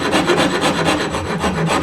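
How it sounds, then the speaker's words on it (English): Rasp filing a wooden Stratocaster guitar neck near the first fret, a close, rhythmic rough scraping in quick repeated strokes, with no voices. "I'll start off with my rasp"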